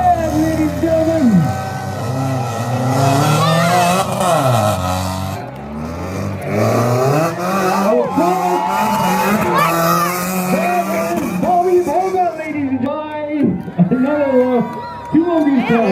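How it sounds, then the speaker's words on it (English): Stunt cars at the JK Tyre drift festival in Laitkor, Shillong, driving back to back balanced on two wheels: loud engines and tyre noise mix with a cheering crowd, while an announcer's amplified voice carries over the whole stretch. "Two of these cars back to back on 2 wheels. 4-wheel cars only on 2 wheels."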